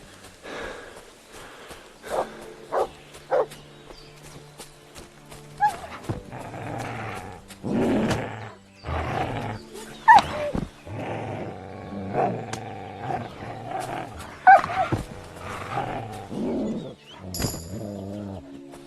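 Mutt the dog growling, snarling and barking as it attacks in Kingdom Come Deliverance 2, a string of rough aggressive outbursts of varying loudness mixed with harsh combat noises, no talking.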